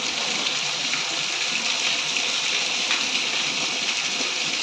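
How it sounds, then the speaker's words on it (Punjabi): Heavy rain pours over a village in Kapurthala district, Punjab, early in the morning, making a dense, loud, unbroken roar of water with no talking. "ਭਾਰੀ ਬਰਸਾਤ ਹੋ ਰਹੀ ਆ"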